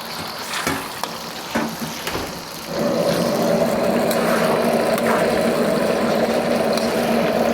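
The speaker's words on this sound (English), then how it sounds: "what we're gonna do is put the beef into the wok" Beef hitting a hot wok for stir-frying, a few sharp clatters first and then a loud, steady sizzle that carries on alone to the end.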